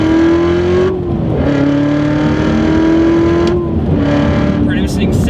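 A 2015 Corvette Z06 with a 6.2-liter supercharged V8 revs loudly up close, its pitch climbing and dropping across two or three pulls with brief gaps between them.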